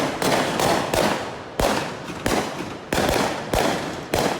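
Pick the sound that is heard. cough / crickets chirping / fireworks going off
fireworks going off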